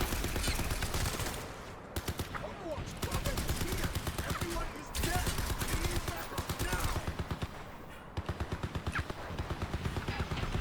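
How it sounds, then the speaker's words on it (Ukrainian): Sustained bursts of automatic gunfire from a turret in the shooter game Crysis 3 Remastered, loud rapid volleys with brief pauses around two, five and eight seconds, dense and continuous throughout. "Не можна взламати стріляючу турель."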